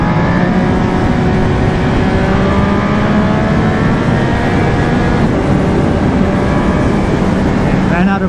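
A 2020 Triumph Speed Triple RS three-cylinder motorcycle engine drones loudly and steadily while being ridden, its pitch rising and falling with the revs, buffeted by wind noise, with the rider talking over it.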